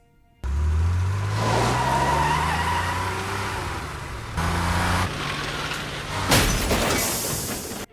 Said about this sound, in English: Vaughn is emceeing a recreation of James Dean's life-ending car accident, complete with authentic cars, stunt drivers, and bad decisions.